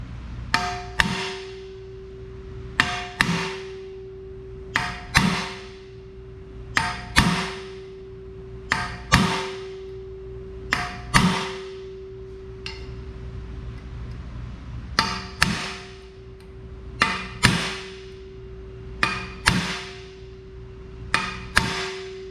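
A hammer strikes metal again and again during installation of an Eckold HF100 air power upgrade, sharp close clanks landing in pairs and small clusters every couple of seconds over a steady hum.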